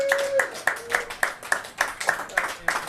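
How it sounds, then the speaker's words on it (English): Steady, rhythmic clapping at a quick even beat for comedian Ian Salyers at a comedy show, about ten crisp claps with a voice speaking over them. "Let's clap it up for Ian Salyers"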